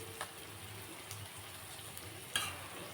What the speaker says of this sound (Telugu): ఇదిగోండి ఉల్లిపాయలు వేగుతున్నాయి.